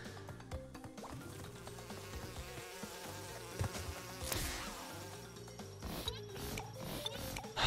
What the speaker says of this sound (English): Oh no, it's a bee.